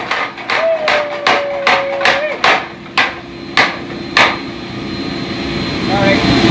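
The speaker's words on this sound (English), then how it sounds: "We're going to utilize between the power hammer and the anvil." A power hammer pounds steel while forging a northern plains style tomahawk, striking about nine sharp, evenly spaced blows over a constant mechanical hum and whine, then stopping.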